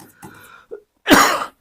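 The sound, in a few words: person coughing and clearing throat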